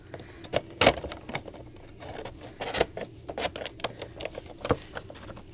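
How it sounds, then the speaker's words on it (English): A Funko Pop figure is pushed back into its cardboard box, making close, quiet rustles, scrapes and small knocks of plastic against packaging. The sounds are irregular and scattered over several seconds. "I'm trying to pop my Chilly Willy back in my box."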